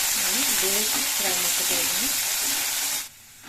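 Vegetables and potatoes frying in a pan for veg Kolhapuri: a steady close sizzle and hiss with a voice speaking over it, then the frying cuts off abruptly near the end.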